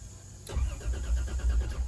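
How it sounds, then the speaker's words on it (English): A Toyota T100 pickup's starter cranks the engine in a steady rapid rhythm after a sharp click, loud and close, lasting under two seconds with no voices. "It cranks."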